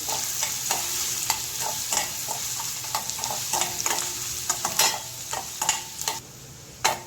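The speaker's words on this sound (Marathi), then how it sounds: "कांदा आपल्याला छान परतून घ्यायचा आहे सोनेरी रंगावर" Chopped onion fries in a kadhai with a spoonful or two of oil, giving a close, continuous sizzle broken by frequent sharp stirring scrapes and crackles.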